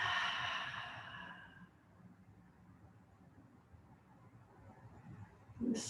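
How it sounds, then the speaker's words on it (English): During a prenatal yoga session, one deep, breathy exhale swells at the start and trails off into quiet room tone, with a faint breathy sound at the end. "deep breath out."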